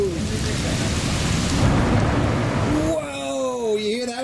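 Thunder rumbles low through steady heavy rain in a Florida thunderstorm, the roar and downpour dominating before fading as a baby's babbling voice rises over the softer rain.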